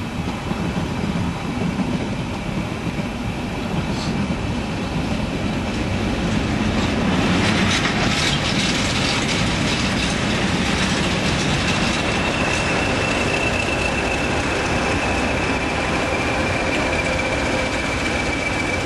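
A train with carriages passes near Melton Mowbray, a steady rumble of wheels and engine with some clickety-clack and faint squeal that swells midway and then carries on, heard outdoors with no talk.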